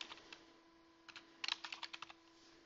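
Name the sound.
typing a folder name on a computer keyboard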